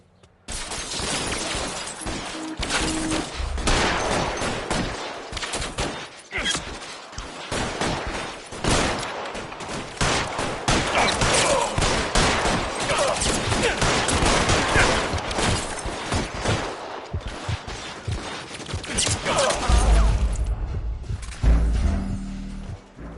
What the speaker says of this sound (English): All units, shots fired.